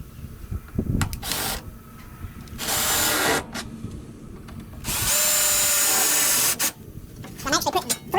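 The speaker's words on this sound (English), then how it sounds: "So let me drill these holes, and then I'll get back with you." Power drill boring holes through a Hustler Super Z mower deck, with several loud separate bursts of whining drilling and quieter handling noise in the pauses between them.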